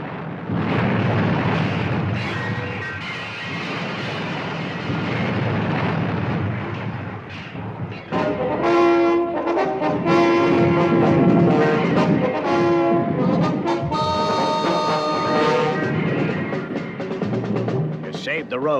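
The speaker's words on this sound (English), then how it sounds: "There was a shattering explosion." A heavy tractor plummets and blows apart in a dramatized audio story, a loud, sustained roaring blast with rumbling debris that continues for many seconds beneath dramatic music.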